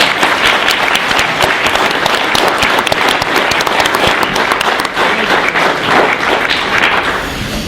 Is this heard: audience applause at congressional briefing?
yes